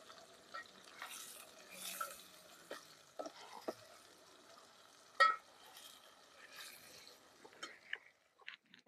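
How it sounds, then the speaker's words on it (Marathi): Onion and tomato frying in a pan for a crab rassa, cooked in a rural herders' settlement: a faint, soft sizzle broken by scattered scrapes and clinks of stirring, quiet and close, with no voices. "म्हणजे कांदा आणि टमाटर मस्त असं तळून त्याला चांगलं हे करून घेऊ परतून"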